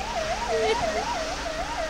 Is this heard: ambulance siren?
yes